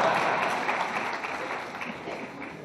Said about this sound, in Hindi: वो ताली बजानी है